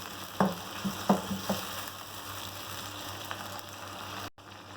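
Boiled beef pieces fry in a karahi for beef karahi gosht, a steady close sizzle with a few clacks of a spoon stirring early on, ending in a sudden cutoff.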